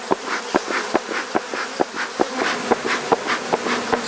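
Many honey bees buzz around an open hive in a dense, close hum, joined by regular sharp ticking knocks about every half second and no voices.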